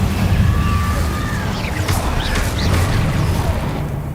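A fire spell is cast in the video game Hogwarts Legacy: a loud, sustained whooshing roar with crackling bursts and sweeping tones that lasts several seconds, with no voices.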